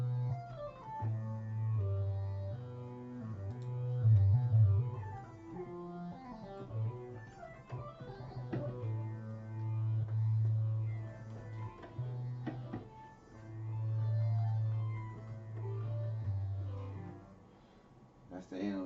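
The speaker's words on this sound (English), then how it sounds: "It's the Roland JDXA, like I said, hybrid digital analog synthesizer." Analog voice of a Roland JD-XA hybrid synthesizer in a home studio: sustained, buzzy low bass notes held for several seconds with brighter harmonic melodic lines gliding above, steady and fairly loud, with no one talking.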